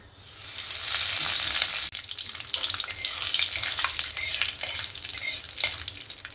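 Black mustard seeds and curry leaves sizzling in hot oil for poha, a loud, continuous crackling hiss close by with small popping bursts throughout and no talk.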